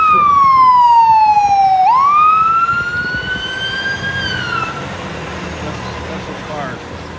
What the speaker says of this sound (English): he turned the siren off after he passed the light